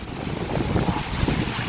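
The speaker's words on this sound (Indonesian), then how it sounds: "Angin deras." Strong wind gusts through a durian orchard during a heavy rainstorm, a steady, loud, broadband rushing roar that swells slightly and continues without pause, with no voices.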